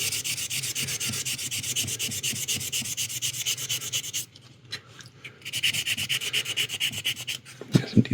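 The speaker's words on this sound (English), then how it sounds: "It's just constant sanding." Rapid back-and-forth rasping strokes of sanding on a plastic part of a 1/60 NeoGrade Sazabi model kit repeat in a steady rhythm, pausing briefly before resuming, close and moderately loud.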